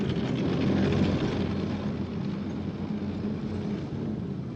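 A Soviet T-55 tank grinds up a steep slope, its heavy engine giving a loud, steady, unbroken rumble with a droning roar throughout.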